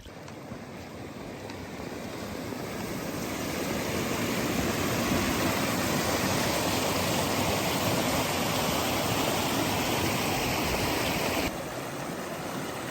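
Steady rushing water of a moorland stream on Bodmin Moor flows nearby, a broad continuous wash that swells slightly early on and holds without pause.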